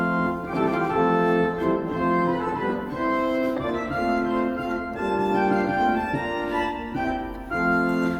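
Pipe organ playing with a quint stop drawn together with principal stops, a full, bright, sustained chord texture moving steadily without pause, loud and close, no voices.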